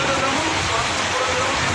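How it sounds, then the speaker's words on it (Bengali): Heavy rain with gusty wind and occasional hailstones pours down in Gazipur, a dense, unbroken roar of drops beating on surfaces that stays loud and constant from start to finish. "গাজীপুরে প্রচুর পরিমাণ বৃষ্টি হচ্ছে,"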